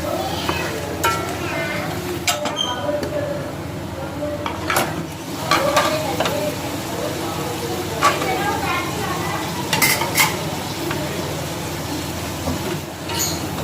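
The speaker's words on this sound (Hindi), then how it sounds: "इसी के साथ हम इसको मसालों को भूनेंगे" Steady sizzling of spices frying in a pan with liver for kaleji masala, with scraping stir strokes and occasional clinks, while a person talks over it.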